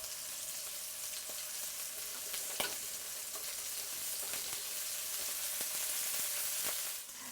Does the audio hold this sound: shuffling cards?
no